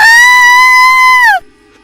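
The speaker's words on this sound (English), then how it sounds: "I woke up in the middle of the night to hear an ear-piercing scream" Animated woman letting out a single ear-piercing scream, loud, high and sustained before it bends downward and cuts off abruptly into near silence.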